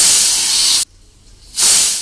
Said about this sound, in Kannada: ಒಲೆ ಮೇಲೆ ಕುಕ್ಕರ್ ಇಟ್ಟು ಲಿಡ್ನ ಕ್ಲೋಸ್ ಮಾಡಿ ನಾವಿವಾಗ 2 ವಿಷಲ್